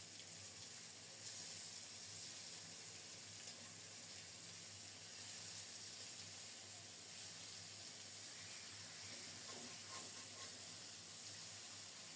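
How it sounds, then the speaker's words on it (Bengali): Taro stolons boiling in a fish curry pot, a continuous close hiss and bubbling simmer at an even level with no voices. "এদিকে কচু ছড়াটা টকবক করে ফুটছে"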